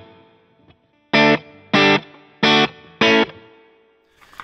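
An electric guitar played through a Line 6 Helix with a distorted tone and spring reverb strikes four loud, evenly spaced chords, each cut short with a brief reverb tail.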